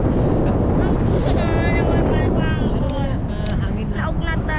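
Strong wind roars and buffets the microphone continuously while people talk over it.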